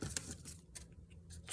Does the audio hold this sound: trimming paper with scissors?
yes